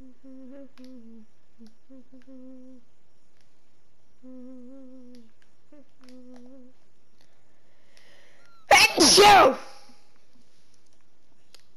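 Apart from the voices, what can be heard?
sneeze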